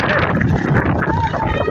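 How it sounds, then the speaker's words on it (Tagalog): A steady, loud roar of storm wind and heavy rain buffeting the microphone with dense rushing noise, continuous throughout with a voice faintly mixed in. "Woo! Lakas na ulan. Lalo siya lumakas."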